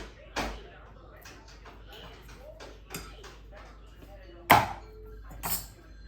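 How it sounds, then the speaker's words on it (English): Garlic being smashed in a kitchen while making falafel and hummus: a few sharp, loud thumps spaced irregularly, with quieter handling noises in between. "I can't even smush this garlic."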